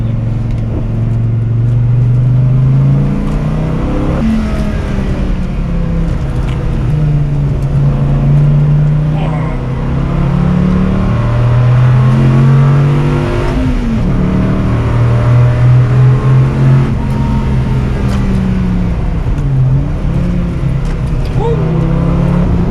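A Dodge Viper SRT-10 with a rear limited-slip differential accelerates hard from inside the cabin, its loud engine note climbing and falling in repeated surges through the gears, with voices talking over it.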